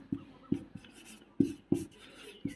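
Pen writing notes on paper while solving a class 10 science problem, a quiet series of short scratchy strokes and taps in an uneven rhythm, close and alone with no talk.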